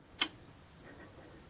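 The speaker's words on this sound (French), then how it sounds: "J'active le relais." A relay on a Bluetooth relay board, wired as a polarity-reversing relay for a DC motor, clicks on once: a single sharp, close tick, then near silence.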